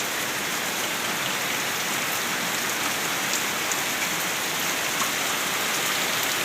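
Steady heavy rain pours down without a break, a dense close hiss of drops on surfaces filling the whole stretch with no voices.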